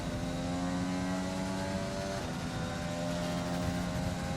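Race car engine in a racing video game droning steadily at high revs with sustained harmonic whine, a loud continuous run during a qualifying session at the Canada circuit.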